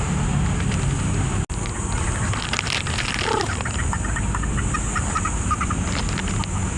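SBR golden fowl hens and a red rooster cluck in a yard, with scattered calls and rattling amid steady outdoor background noise.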